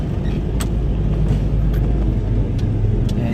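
1983 Chevrolet S10 truck running on a new exhaust, a steady low rumbling engine drone with a dense bassy tone, continuous and close throughout, punctuated by a few faint clicks and no talking.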